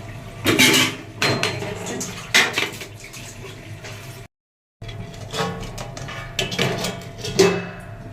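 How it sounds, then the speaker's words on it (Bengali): Metal cooking pot clanks and clatters up close, its lid knocking and scraping against the rim in several bursts as it is covered, a short silent break midway. "এখন ওকে ঢাকা দিয়ে দেওয়া হবে"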